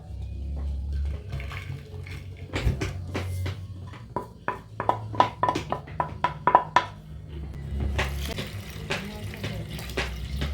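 Fresh corn dough for Ga kenkey is mixed by hand in a bowl, giving irregular wet slaps, knocks and scraping clatter. The sounds are close and uneven, with some watery splashing and quieter pauses between bursts.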